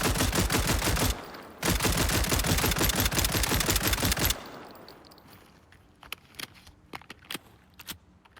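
An MP5A4 submachine gun in the game SCP: 5K fires long rapid bursts, broken by a brief pause, then the magazine is swapped and the bolt worked with a series of sharp metallic clicks and clacks.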